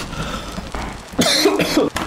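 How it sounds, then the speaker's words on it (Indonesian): A person coughs during a Tomb Raider Chronicles gaming session, a few rough, close bursts in the second half, with game sounds continuing underneath. "Batuk."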